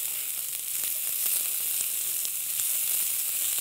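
Vegetables stir-frying in a very hot pan for a veggie stir fry give a steady, loud sizzle with crackling bursts and scraping as they are tossed, with no talking.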